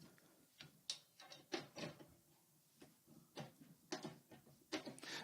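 A drum key turns the bottom lugs of a snare drum, faint close clicking and ratcheting in short irregular bursts with quiet pauses between turns.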